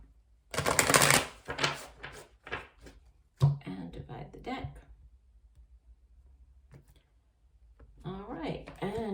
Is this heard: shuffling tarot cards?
yes